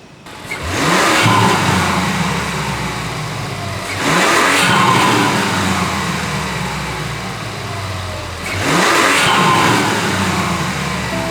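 A Mazda CX-90 engine fitted with a Takeda cold air intake revs three times, each rising sharply then falling back to a lower idle drone, loud and close with no talking.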